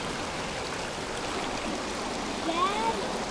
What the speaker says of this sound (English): Look at this water, it's moving pretty fast.